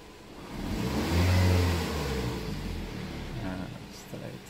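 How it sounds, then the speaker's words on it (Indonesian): A Daihatsu Sirion engine revs as the gas pedal is pressed gently after an ECU reset, rising to a steady hum and then easing back down. It sounds close and fills the whole stretch. "Setelah itu kita injak gas"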